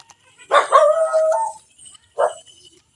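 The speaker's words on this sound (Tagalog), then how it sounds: "aso ng kapitbahay guys." A neighbour's dog gives a drawn-out bark that trails into a short howl, then falls quiet before one brief bark; it sounds close and stands alone.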